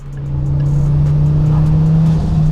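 A 600 bhp Ford Focus ST coming on boost, heard from inside the car with the windows down: a loud, deep, rising engine drone that stays strong and steady for a couple of seconds, with no talk.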